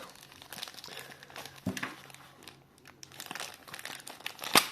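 A parcel of Soviet-era circulation coins sent from Kharkiv is unpacked, with close crinkling and crumpling of packaging in irregular bursts and a sharper rustle near the end.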